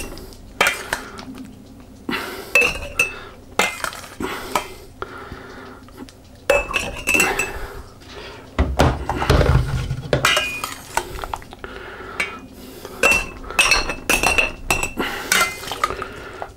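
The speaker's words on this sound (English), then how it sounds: "what I'm now going to do is just spoon those" Sweet courgette pickles being spooned into a glass jar, with repeated close clinks of a metal spoon against glass and pan, scraping and packing sounds in irregular bursts.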